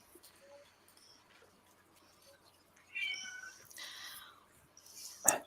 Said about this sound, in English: Whose cat do I keep hearing?